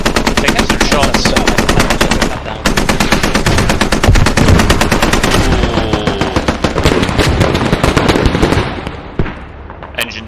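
Rapid automatic gunfire in a competitive shooter match, loud sustained bursts of machine-gun fire with overlapping shots, a brief break near the third second, then continuing fire that thins toward the end.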